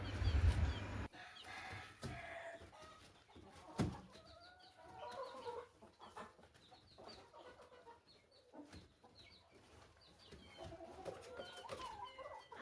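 Chickens cluck and murmur softly in a group, with scattered pecking taps and faint calls, quiet and close, without any talking.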